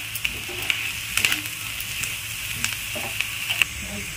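Onions frying with turmeric and Kashmiri chili sizzle steadily in a pan while a spoon stirs them, adding sharp scraping clicks and taps at irregular intervals, with no talking.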